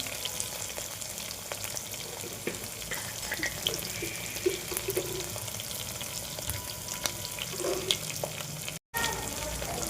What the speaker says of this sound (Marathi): कांदा परतत टाकून देऊ. कांद्यातच मीठ टाकून देऊ आपण.